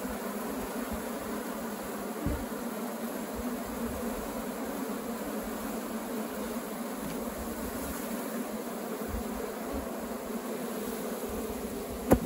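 Dense, continuous buzzing of a swarm of Apis honeybees being captured from a termite mound in the middle of a pasture, a steady close drone holding through the whole stretch with no voices.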